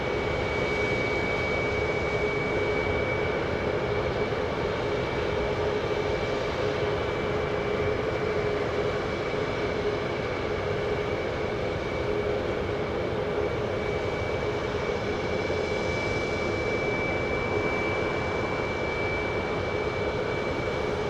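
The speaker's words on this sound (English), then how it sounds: "This is JSX Flight 287 from Houston Hobby on Embraer 145." Embraer 145 jet on a JSX flight arriving at Dallas Love Field, a steady distant engine roar with a faint whine holding evenly throughout, no voices.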